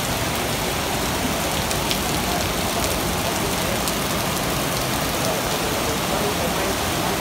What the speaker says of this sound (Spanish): E impresionante también la fuerza del arroyo.